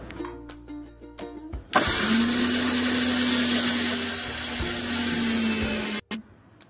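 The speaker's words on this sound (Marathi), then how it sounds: "आता हे आपण नारळाचे तुकडे केलेले आहेत ते आता आपण मिक्सर मध्ये बारीक करून घेऊया" A kitchen mixer grinder pulverises fresh coconut pieces. After some light clatter, the motor kicks in with a loud, steady whirring roar, runs for about four seconds and cuts off abruptly.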